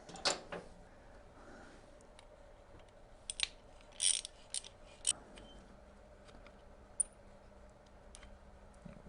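Ratchet clicking while undoing the brake pad pin on a Triumph Sprint ST 955i front caliper, a few sharp close clicks spread over quiet workshop background, no talk.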